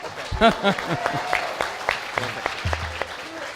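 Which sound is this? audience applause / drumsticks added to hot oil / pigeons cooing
audience applause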